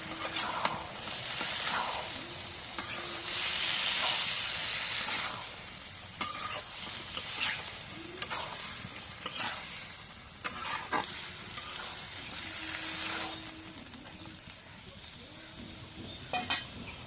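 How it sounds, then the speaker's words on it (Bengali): Soya chunks being stirred with duck eggs in a pan: a steady frying sizzle with repeated scrapes and clinks of a spatula against the pan, close and continuous. "নাড়া দিই।"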